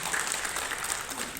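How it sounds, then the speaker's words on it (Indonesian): A crowd applauding at a football association congress in North Sulawesi, a short burst of dense, even clapping with no break. "Tepuk tangan."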